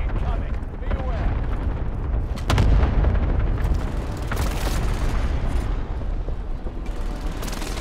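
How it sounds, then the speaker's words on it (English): Explosions from a precision airstrike in the Call of Duty Warzone video game: dense, heavy booms and blasts fill the whole stretch, with a sharper impact at about the midpoint and game voices mixed in. "Allied precision airstrike incoming."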